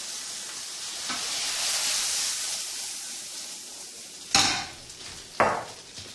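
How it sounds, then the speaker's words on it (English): Pelmeni sizzling in a pan with a dash of vinegar and fish sauce, a steady hiss of frying joined by two sharp clinks of a utensil against the pan near the end. "And just fry them up for another minute."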